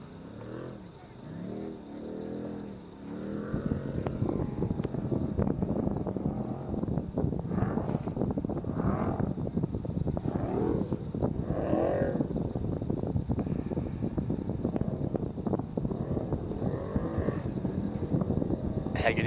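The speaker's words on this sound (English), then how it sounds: "You can hear one of the trucks just roaring to life coming up into the spaghetti bowl" Off-road race trucks roar and rev as they climb a dusty uphill section of the 2021 Baja Nevada qualifying course, a steady engine drone that stays mostly under continuous commentary.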